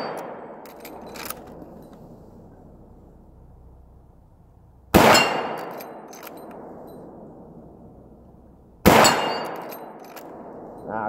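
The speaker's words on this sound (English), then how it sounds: "I really love shooting this rifle." A Marlin rifle fires three sharp, loud shots at steel plates, each followed by a ringing clang that trails off, spaced a few seconds apart with quiet gaps between.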